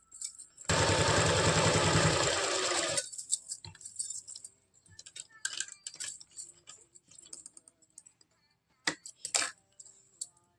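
A sewing machine stitches a belt onto palazzo pants in one loud, fast, rattling burst at close range, followed by quieter handling clicks and rustles of fabric.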